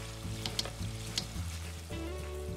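Thai quail egg snacks (khanom khai nok krata) frying in oil over low-to-medium heat, a steady bubbling sizzle with small pops, close and continuous, no talk.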